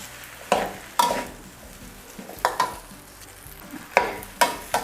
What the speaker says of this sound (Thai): ซีอิ๊วขาว ใส่ไปหนึ่งช้อนค่ะ คนส่วนผสมให้เข้ากันเลยค่ะ